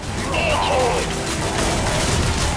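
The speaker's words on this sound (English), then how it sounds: "The weapons on offer seem pretty punchy, from the standard battle rifles to this mean-looking heavy bolter." Rapid gunfire from battle rifles and a heavy bolter in the shooter game Medal of Honor, a dense, loud burst of shots and blasts running continuously through the whole stretch.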